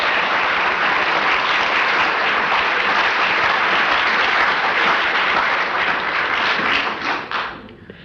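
A 1962 studio audience of a radio panel show applauds in a thick, sustained burst of clapping that holds loud and even for several seconds, then thins out and trails off at the end.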